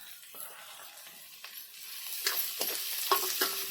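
Onions browning in a pan for a Malvani clam curry give a low steady sizzle that grows louder toward the end, with several sharp stirring scrapes and clinks in the last second and a half.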